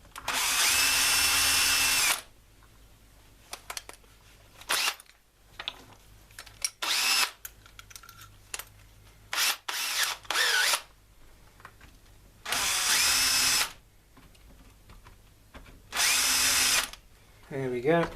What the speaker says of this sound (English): And we need to drill from this side so we don't get any breakout on the front.